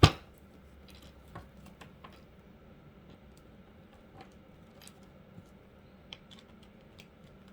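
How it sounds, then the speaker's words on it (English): Quiet, close riffling and soft slaps of a tarot card deck being shuffled by hand, a loose irregular series of small clicks and flutters over a faint background. "I am shuffling right now"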